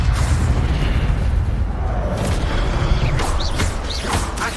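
Incendio fire spell cast in Hogwarts Legacy: a loud, dense roaring burst of fire and rumbling magical impact, sustained throughout with creaking mechanical textures and bright whooshing accents near the end.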